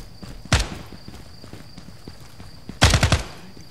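Gunshots fired through a window during a night close-quarters combat game at a small rail station: one sharp shot, then a quick burst of several rounds nearly three seconds later, over a quiet background with light footsteps.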